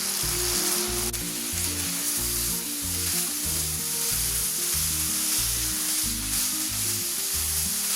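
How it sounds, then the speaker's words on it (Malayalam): Ripe banana roasts in ghee on high flame while being stirred and turned. A loud, steady sizzle runs under a regular rhythm of low thumping strokes, with no voice. "ഇങ്ങനെ തിരിച്ചും മറിച്ചൊക്കെ ഇട്ടിട്ടൊന്ന് നന്നായിട്ടൊന്ന് റോസ്റ്റ് ചെയ്തെടുക്കാം കേട്ടോ."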